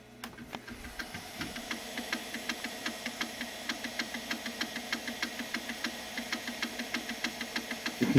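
An old MiniScribe hard drive in a Macintosh SE runs its stepper motor slowly, giving a steady train of soft, evenly spaced clicks over a faint mechanical hum.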